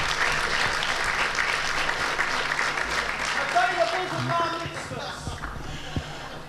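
Audience at an awards ceremony applauding a performing duo, a broad sustained wash of clapping from a seated crowd at dinner tables, steady throughout with a voice briefly audible underneath.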